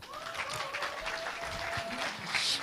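An audience at a political party convention in Jeju claps steadily to welcome a candidate, a dense wash of applause that swells toward the end while a voice carries over it.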